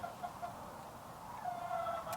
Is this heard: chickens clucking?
yes